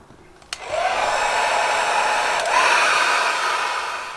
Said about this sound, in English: So I'm going to get the hairdryer out, warm up the sticker